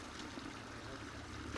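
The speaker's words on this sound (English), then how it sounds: "The water is running and Alan is just kind of checking it out" Water runs through a pondless garden waterfall in a steady, deep splashing rush, close and continuous throughout, with no voices.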